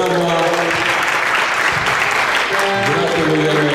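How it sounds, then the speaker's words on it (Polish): A climbing competition audience applauds the winner with loud, dense, continuous clapping while a sustained musical tone plays underneath. "Wielkie brawa."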